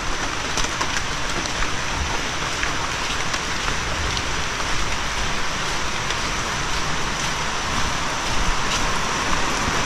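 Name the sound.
heavy rain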